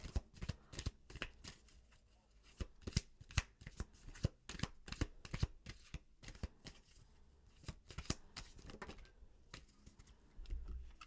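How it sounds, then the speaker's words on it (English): Quick riffling and snapping of playing cards being shuffled, in repeated bursts of crisp clicks, close and fairly quiet with no talking. "the sound of the cards shuffling"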